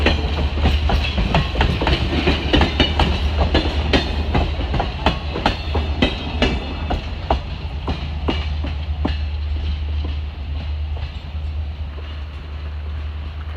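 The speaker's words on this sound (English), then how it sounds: "Train." A train rolls past steadily, with rhythmic clickety-clack of wheels over rail joints and a constant low rumble throughout, loud and close.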